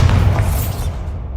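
Bombarda spell explosion in the video game Hogwarts Legacy: a single loud, deep boom with a crackling burst that swells and fades over a second or so, close and alone.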